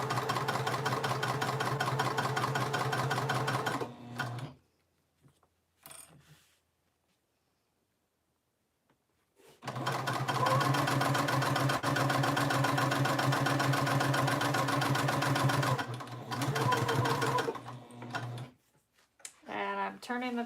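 A sewing machine stitches a tote bag in two loud, steady running bursts with a quiet gap between them where the fabric is turned at a corner, a fast close mechanical whir.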